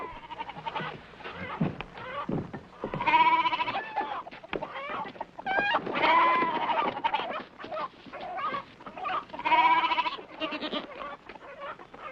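Goats bleating loudly in repeated wavering calls, a few seconds apart, with chickens clucking softly in the background.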